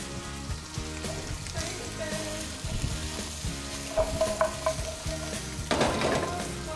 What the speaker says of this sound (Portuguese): Vou saltear as vagens também.